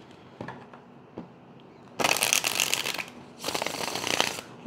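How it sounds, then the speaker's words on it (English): Tarot cards are shuffled close up in two loud riffling bursts, separated by a brief pause and preceded by a few soft taps; no one speaks. "One more shuffle."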